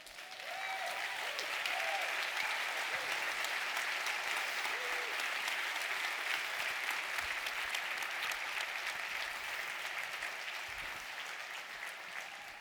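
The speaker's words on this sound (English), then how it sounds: "give yourself a round of applause" A conference audience at FUBCON 2023 gives sustained, dense applause, with many hands clapping together at an even level for several seconds before it slowly eases off.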